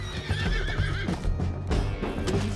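A horse neighs and whinnies loudly in Red Dead Redemption 2, with clip-clopping hooves and busy game sounds layered steadily throughout.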